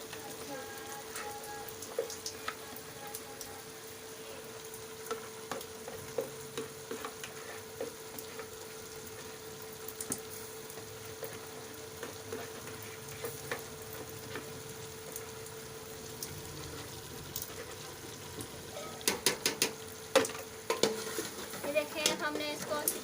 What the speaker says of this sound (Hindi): तो अब हम इसमें डालेंगे घी और इसको अच्छी तरह से भूनेंगे।